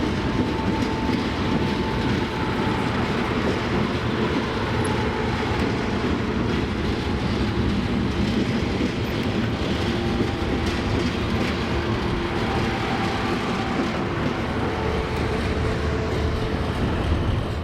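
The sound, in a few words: train hauled by extra locomotives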